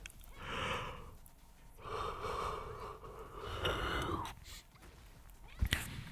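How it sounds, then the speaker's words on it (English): A person yawns softly and close to the microphone in a quiet room, with a breathy intake followed by a long, drawn-out voiced exhale and a small click near the end. "Sorry, I had to yawn."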